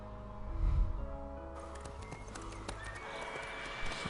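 Horse in The Witcher 3 video game neighing loudly, then galloping with fast rhythmic clip-clop hooves under game sounds and music.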